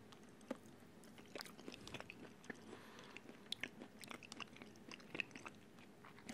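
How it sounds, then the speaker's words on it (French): A cooked carrot is chewed close to the microphone, with soft, irregular crunching bites and wet mastication repeating quietly for several seconds, no voice over them. "On va goûter la carotte maintenant."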